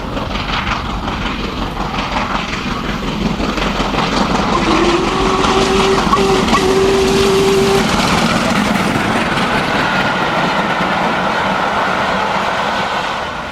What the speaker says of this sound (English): In August 2009, the loco heads through Uskelf.